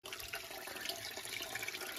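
Water flowing down from forested hills, a steady broadband rush of running water holding constant and fairly close throughout with no speech.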